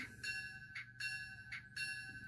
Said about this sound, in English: How about a bell? We got a bell.